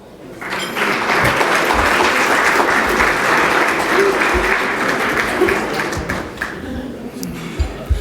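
Sustained audience applause at a scholar-athlete honors ceremony for community college honor roll student athletes, a dense, steady wash of many hands clapping that rises fast and tapers near the end.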